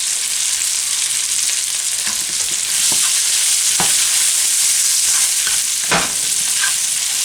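Mushrooms sizzle and fry in a hot pan with garlic, a steady close hiss broken by a few louder pops and stirring scrapes, with no talking.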